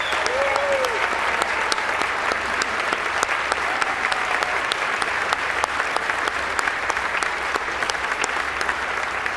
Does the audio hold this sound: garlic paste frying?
no